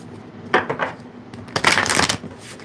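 Two bursts of tarot card shuffling up close, a short riffle followed by a longer, louder one, in a quiet room.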